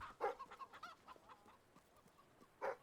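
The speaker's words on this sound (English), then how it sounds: "Alright, the chicken army is growing." Several chickens cluck in Fable III, a run of short bursts with a louder cluster near the start and another sharp burst near the end, over a low steady game ambience.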